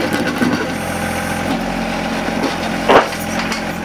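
A John Deere 1025R compact tractor idles steadily while its backhoe works the ground for a drainage project, with scraping, knocks and a sharp clunk of the bucket striking material, all close and moderately loud.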